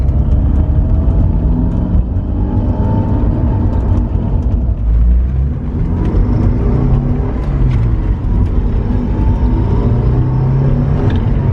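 A Porsche 944 S2 with its 3-liter engine pulling steadily at half throttle, a loud continuous low rumbling drone with engine tone rising gradually, heard from inside the car with no talking.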